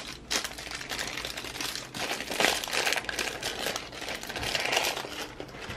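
Plastic wrapper of a LOL Surprise Hair Goals toy crinkling while being opened, a steady run of close, loud rustling and crackling with no talk.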